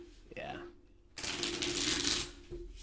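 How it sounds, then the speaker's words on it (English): Near, loud riffle of a deck of cards being shuffled, a dense burst of rapid flicking lasting about a second, with brief voice sounds before it. "I'm gonna shuffle. I'm good at shuffling."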